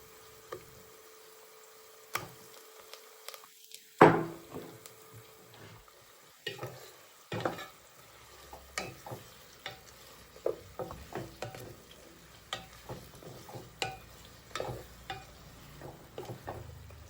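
Chopped onions sizzling and being stirred in a pan for chicken biryani, a soft steady fry with repeated scraping and clinking stir strokes, close and fairly quiet, no voices.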